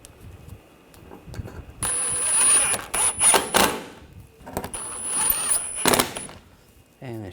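Screws on the intercooler of a 2013-2022 Buick Encore with the 1.4L four-cylinder are tightened by a tool, close up, in several short mechanical whirring and ratcheting bursts separated by pauses and light handling noises.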